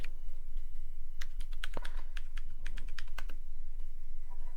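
Someone types a command on a computer keyboard in a Cisco network configuration session. The keystrokes are quick, irregular and close, with a few clustered bursts and short pauses over a low steady hum, and no voices.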